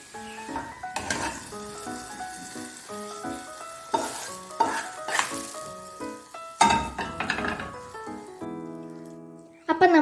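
Ingredients sizzle and fry in a pan for pumpkin erissery, with steady stirring, scraping and clinks of a utensil against the pan, close and continuous throughout, ending with a louder burst of sizzling.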